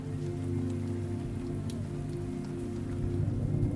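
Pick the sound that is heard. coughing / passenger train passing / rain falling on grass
rain falling on grass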